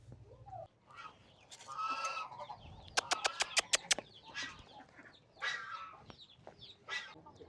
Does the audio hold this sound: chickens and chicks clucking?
yes